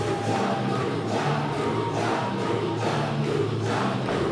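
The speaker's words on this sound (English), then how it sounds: "the capacity crowd in attendance chanting along" A capacity wrestling-event crowd chants along in a steady rhythmic swell, the massed voices pulsing in regular beats that fill the arena with a constant loud roar.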